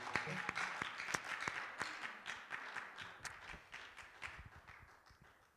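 A church congregation claps in a lively, uneven burst of applause for God, fairly distant and fading toward the end.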